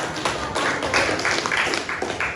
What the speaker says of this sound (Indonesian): Ya, beri tepuk tangan.